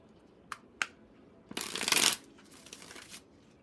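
A deck of cards is handled with two light taps, then riffle-shuffled in a loud crisp burst and followed by a softer second riffle, close by in a quiet room.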